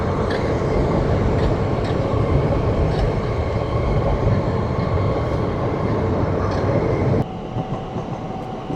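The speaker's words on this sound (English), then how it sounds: "That's an SWR train." An SWR passenger train rumbles past close by in London, a steady loud roar with rhythmic rail clatter throughout, easing slightly near the end.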